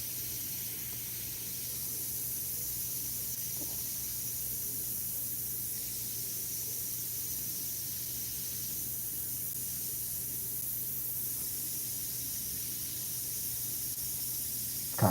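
Iwata CM-SB airbrush spraying Createx Illustration Colors onto Claybord, a steady continuous hiss of air and paint running unbroken throughout with no talking.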